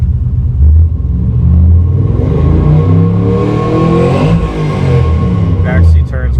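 A 2006 Pontiac GTO's engine cranks and catches, settling into a loud, deep rumbling idle with a brief rev, heard up close from inside the car for several seconds.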